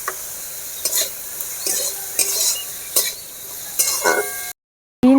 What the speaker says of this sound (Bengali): বিনস আর গাজর আমার ভাজা হয়ে গিয়েছে